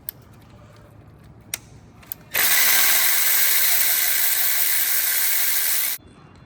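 A ratchet tool works on transmission pan bolts under a Mercedes-Benz W204, a few faint clicks, then a loud, continuous whirring buzz lasting about three and a half seconds before it stops abruptly.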